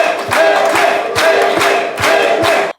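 Loud crowd applause and cheering at a political party seminar in Adjamé, surging in three rhythmic waves with chanting voices, then cutting off abruptly.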